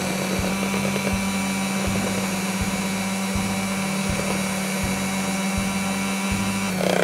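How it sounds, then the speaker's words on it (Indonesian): A steady electric mixer motor whirs continuously at close range, with a faint rhythmic pulsing like beaters churning through thick onde-onde ketawa dough with sweetened condensed milk. "Tetap kita mixer, kita kocok."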